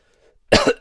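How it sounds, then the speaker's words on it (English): A single sharp cough right up close, preceded by near silence and followed by a second brief burst. "Sorry, I got a bit of a cough."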